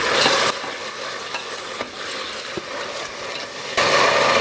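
Steady sizzling of meat frying in a pot, with soft scraping as it is stirred, close by and continuous.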